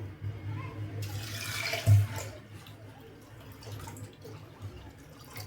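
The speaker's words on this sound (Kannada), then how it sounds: "ಸೊ ಇದಕ್ಕೆ ಇವಾಗ ನೀರು ಹಾಕೋಬೇಕು." Water gushes briefly into a vessel, a splashing pour lasting about a second over a low background hum, then quiet room noise.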